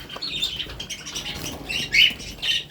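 Pet birds in a cage chirping in short high bursts, with soft fluttering and rustling as they move about, close and without talk.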